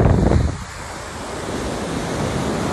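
Surf rolling onto a beach at Ras al Khabbah, Oman, at sunrise, a steady broadband wash with a slightly louder surge at the start and wind buffeting the microphone throughout.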